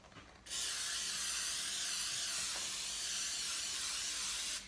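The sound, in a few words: spraying a baking pan with cooking spray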